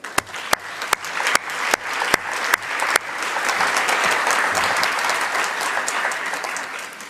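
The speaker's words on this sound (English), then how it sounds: "Maybe if I can invite just another quick round of applause for our panelists of this first sub-session." Conference audience gives a round of applause for panelists at a biodiversity, food and agriculture session, starting with a few sharp nearby claps that swell into steady, full applause across the room.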